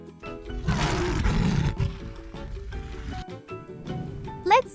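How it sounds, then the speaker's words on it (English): A lion roars in a long, loud, rumbling burst near the start, then lower growls follow, with a brief high bird-like whistle at the end. "It's a lion."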